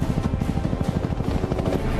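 An Apache helicopter's rotor thumps in a steady rapid pulse, loud and close, with a continuous engine roar beneath and no voices.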